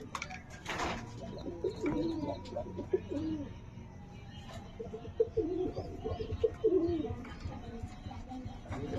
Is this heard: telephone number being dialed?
no